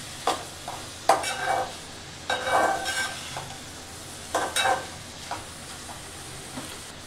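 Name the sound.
ivy gourd pieces and onions stirred in a frying pan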